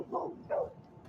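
A dog gives two or three short barks from close by, each a brief muffled burst with quiet gaps between them.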